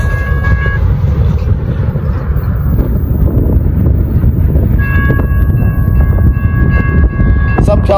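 A BNSF intermodal freight train passes close by with a steady, loud rumble of rolling wagons, wind buffeting the microphone, and sustained horn-like tones at the start and again near the end.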